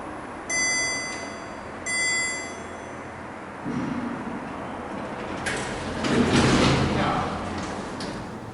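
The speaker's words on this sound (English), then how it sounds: "Doors closing." Shopping centre lift doors slide shut after two short electronic chimes, a rolling mechanical rumble building to a louder clunk and rattle as the panels close, with a voice speaking briefly.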